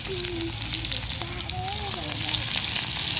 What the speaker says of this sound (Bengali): এই মাছের এই মাথাগুলো ফেলে দেওয়ার দরকার প্রয়োজন নেই এই নিজগুলোকে আপনারা এরকম করে ভেজে নিতে পারবেন